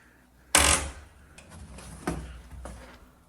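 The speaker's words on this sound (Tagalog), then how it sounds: "Ba't nakakatakot yung tunog ng pinto?" An old door in an abandoned house, starting with a sudden loud bang, then a quieter mid-length creak and two softer knocks or clunks spaced about a second apart, in a hushed interior.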